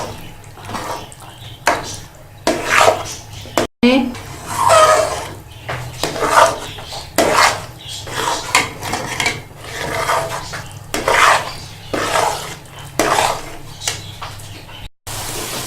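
Semolina roasting in a pan on full flame while being stirred for carrot halwa, with continuous close scraping and clinking of the spoon against the pan in uneven bursts.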